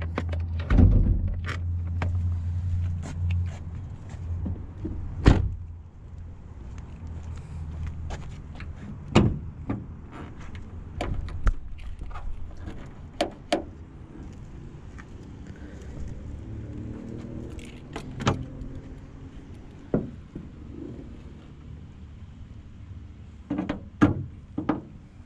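Volkswagen Passat hood being opened: a series of sharp mechanical clunks and latch clicks spread over the clip, with a louder thunk near the start and more clicks at the end, over a low rumbling background.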